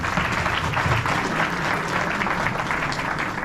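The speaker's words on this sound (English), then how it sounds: "So a round of applause for all of them." Audience at an alumni meet applauds the organizers, a dense, even burst of clapping from a roomful of people, close and sustained throughout with no speech.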